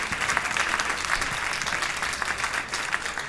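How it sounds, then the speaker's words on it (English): Concert audience at a jazz night applauds a vocal jazz group leaving the stage, a thick, continuous wash of clapping at steady loudness with a few cheers. "One more huge round of applause for the vocal jazz while they're getting off the stage."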